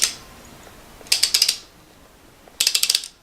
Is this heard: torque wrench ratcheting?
yes